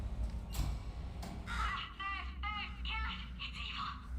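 In the puzzle game Portal 2 a bird caws in a run of four or five harsh, rhythmic croaks, fairly loud over a noisy game background, with some faint voice nearby.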